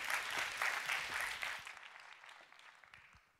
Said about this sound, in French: les applaudissements qui se sont destinés sont amplement mérités